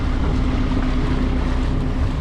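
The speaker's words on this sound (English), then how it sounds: "Yes, this has a Volvo Penta KAD32 diesel engine." A Volvo Penta KAD32 diesel engine aboard a Sealine S23 sports boat runs at a steady, continuous drone with a low hum, close and loud, with some wind buffeting and no talk.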